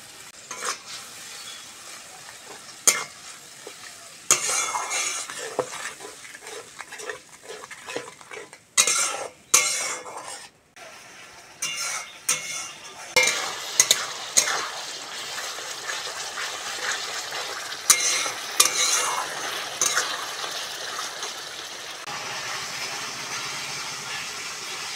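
Spices fry in oil in a pan, with salt, turmeric, chilli powder, cumin paste and ginger paste, for an egg curry with green mango. A steady sizzle runs throughout, broken by frequent stirring scrapes and clinks of a utensil, and no one talks.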